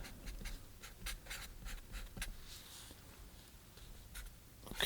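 Pencil scratching over paper while a preliminary sketch for a watercolor of flowers and a shore bird is laid down, with quick rhythmic strokes close up and fairly quiet.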